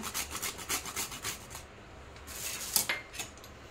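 Whole nutmeg is rasped against a grater over a pot of basundi, milk sweetened and flavored with cardamom, in a rhythmic series of close scraping strokes, quick at first, then sparser with a sharper click near the end.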